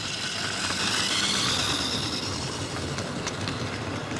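A Bachmann Union Pacific 1468 model train locomotive runs along the track, untested, pulling forward with a caboose attached. Its steady rolling rumble and clickety-clack are close and continuous, with faint squeals near the end.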